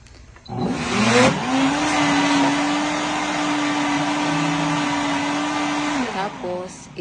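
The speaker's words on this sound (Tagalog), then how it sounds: "i-blend natin ulit" Electric blender whirring as it blends lemon into juice, loud and close, spinning up after a brief start, holding a steady high whine for about five seconds, then winding down and stopping.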